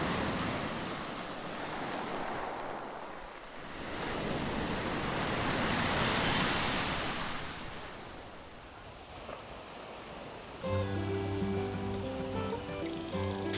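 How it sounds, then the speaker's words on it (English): Ocean waves breaking on the long sandy beach in Chennai, a steady roar of surf swelling and receding with wind noise, near and fairly loud, with music entering at the end. "They told us we had to see the beach."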